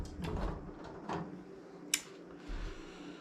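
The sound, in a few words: bent drawer being pulled out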